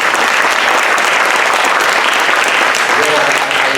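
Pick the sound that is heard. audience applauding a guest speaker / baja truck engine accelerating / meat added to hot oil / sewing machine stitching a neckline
audience applauding a guest speaker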